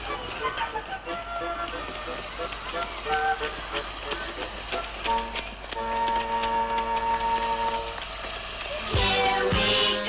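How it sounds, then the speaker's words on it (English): A small steam train chugs and hisses steadily, with metallic clatter and a sustained whistle-like tone rising near the end. "When the miniature steam train gets to the last stop"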